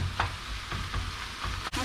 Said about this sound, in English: Sorry about the noise. It's the ground beef noise.